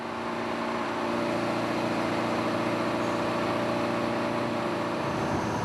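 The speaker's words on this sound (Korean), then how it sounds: "소음 가득한 엔진실이다." A fishing boat's engine room on a skate-fishing trip near Heuksando fills with a steady, loud mechanical drone of machinery, unbroken and constant throughout.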